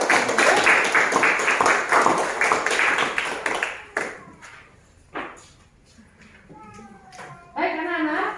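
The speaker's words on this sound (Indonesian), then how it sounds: "Tepuk tangan." Students clapping hands together in a classroom, a dense burst of applause for about four seconds that thins into scattered claps, followed by children's voices and a few taps.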